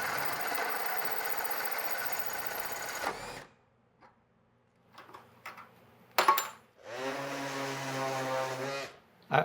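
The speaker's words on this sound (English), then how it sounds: "I was going to drop the socket in there for dramatic effect, but I forgot the form was under here." A metal socket dropped into a metal-working form in a workshop lands with one sharp, loud clank midway, set between stretches of steady mechanical whirring.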